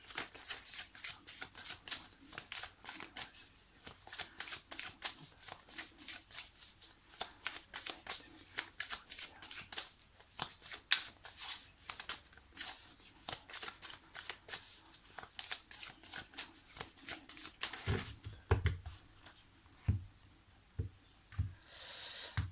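A deck of tarot-style cards being cut and shuffled up close, a long run of rapid crisp riffling flicks and slaps ending in a few separate thumps as cards are laid down, no talking.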